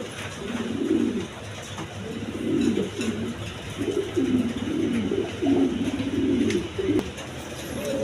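A pair of American lark pigeons cooing nearby, repeated soft throaty coos in a loose rhythm of about six or seven phrases over a quiet background.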